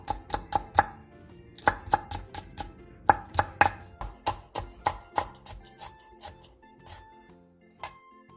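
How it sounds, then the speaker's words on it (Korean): Green and red cheongyang chili peppers being finely chopped with a knife, a brisk run of sharp, close blade taps on a cutting board, slowing and spacing out toward the end, with no talking. "쫑쫑 썰어주세요."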